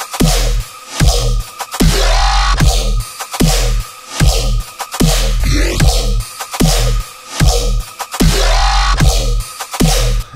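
Serum-built synth remake of a bass-music track with every part playing together: heavy sub bass, punchy rhythmic drums and bright synth layers pulsing in a steady, loud groove, with no talking.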